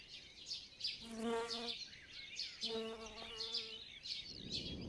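Mason bees buzzing around a nest alongside a cuckoo wasp, with close insect wing hums swelling in two distinct passes over soft background chirps and rustling, quiet and with no speech.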